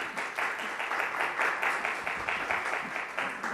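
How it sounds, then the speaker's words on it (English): A crowd at the opening ceremony of a riverside drum festival applauds in a steady, dense wash of clapping hands at moderate loudness, with faint voices mixed in. "I'm going to ask for a big applause to our friends that have been doing this for 4 years."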